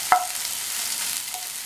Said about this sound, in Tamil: கட் பண்ணி வச்ச வெண்டைக்காயை இதை சேர்த்துடலாம். சேர்த்துட்டு இதை மிதமான தீயில் வச்சு நல்லா மொறு மொறுன்னு வர வரைக்கும் வறுத்துக்கணும்